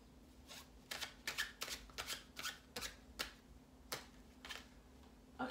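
Tarot cards being shuffled and pulled from a deck, a series of quick, crisp riffling flicks in irregular bursts, close and fairly quiet with no voices.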